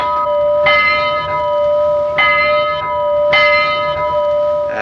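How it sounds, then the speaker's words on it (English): A train bell rings in three loud, clear strikes about a second and a half apart, each leaving a long sustained ring that fades before the next. "The bell is a regular old Portland bell here"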